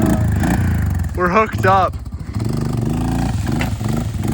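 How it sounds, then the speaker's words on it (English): The engine of an abandoned boat runs with a loud, steady low rumble and rises briefly when revved, while excited voices talk and shout over it. "Rev it up once, see how she's feeling."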